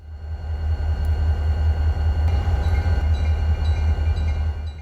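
An SD40 diesel locomotive hauling a manifest train rumbles past nearby, with a loud, steady low engine drone and faint rail clicks throughout.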